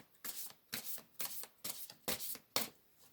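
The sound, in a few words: shuffling tarot cards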